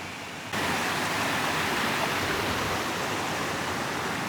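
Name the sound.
waterfall and river at Lata Kijang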